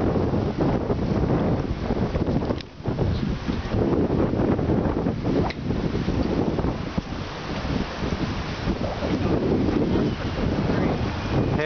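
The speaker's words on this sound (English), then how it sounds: "ocean breezes." Ocean breeze buffeting a microphone on the La Jolla coast during an electric bike ride, a loud continuous rumbling wind roar with gusty swells and faint surf beneath.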